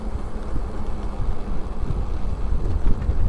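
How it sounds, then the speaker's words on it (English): Steady wind rumbles and buffets the microphone outdoors, a low continuous roar with gusty swells and no voices. "There's a bit of a wind going"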